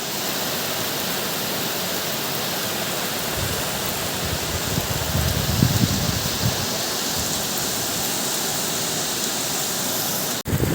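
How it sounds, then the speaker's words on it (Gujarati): Heavy rain driven by wind pours steadily in Vallabhipur, a dense, constant hiss that swells briefly midway and stays loud and close throughout. "મિત્રો વરસાદ પંદર મિનિટથી ચાલુ છે પણ જોરદાર વરસાદ આવે છે અને પવન એવો છે પવન સાથે વરસાદ વલભીપુરમાં છે"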